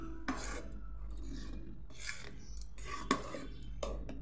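Semolina cake batter with yogurt and milk is stirred in a bowl, giving soft rasping scrapes in several separate strokes, close and quiet, with faint talk between them.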